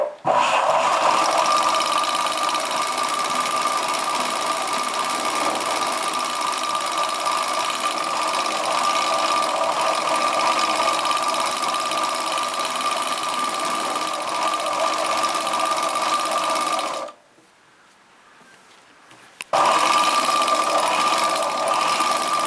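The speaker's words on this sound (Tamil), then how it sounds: "இப்படி ஒரு தையல் போட்டுக்கலாம்." A sewing machine runs steadily and close by as it stitches a chudidar pant, giving a loud continuous mechanical hum that stops for about two seconds and then starts again, with no voices.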